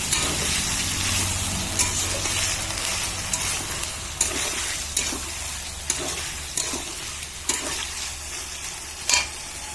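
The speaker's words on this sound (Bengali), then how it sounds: "মশলা থেকে তেল বার হচ্ছে এবার এখন আমি দিয়ে দেব খাসির মাংসটা" Goat meat dropped into spiced oil and stirred on a wood-fired stove gives a steady close sizzle and frying hiss, broken by sharp scraping stir strokes at irregular intervals.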